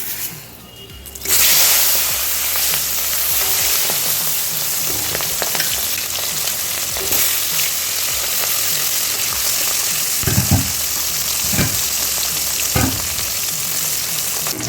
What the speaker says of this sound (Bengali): আমি এবার বাকি দুটো মুড়ো ভেজে নিচ্ছি।